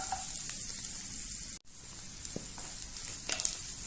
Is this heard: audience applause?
no